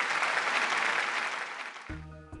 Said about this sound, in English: Please give our panelists a big round of applause.